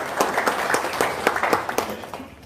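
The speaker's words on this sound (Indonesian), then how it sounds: "tepuk tangan dulu dong" A live audience at an Indonesian religious talk claps together in a brief burst of applause, steady and moderately loud, with no one speaking over it.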